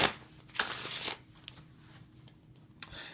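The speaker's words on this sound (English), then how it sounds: "Next shuffle we're going to be getting into is a Riffle Shuffle" A deck of playing cards is riffle shuffled: one loud, dense burst of flicking cards lasting about half a second, then quiet handling with a few faint taps and rustles.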